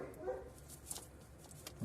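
A dog barks a few times in the distance, short and faint, over quiet outdoor background noise.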